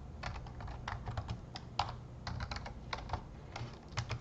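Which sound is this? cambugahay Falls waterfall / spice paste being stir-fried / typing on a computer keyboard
typing on a computer keyboard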